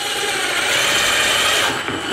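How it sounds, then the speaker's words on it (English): Power drill pre-drilling a hole for a window blind bracket, a loud, steady, close whirring grind that holds for about two seconds with no talking. "Take your drill bit and pre-drill it."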